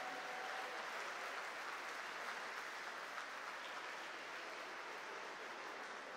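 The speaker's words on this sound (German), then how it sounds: "Applaus, meine Damen und Herren." A crowd applauds at a fight event in Kempten, Germany, with dense, steady clapping that holds at an even level for the whole stretch.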